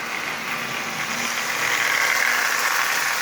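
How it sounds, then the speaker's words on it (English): A Marx 490 toy locomotive fitted with a double reduction motor runs steadily, giving a continuous close whirring hum with a faint mechanical buzz that swells slightly partway through, with no voices. "it gives me a running Marx 490 with a double reduction motor"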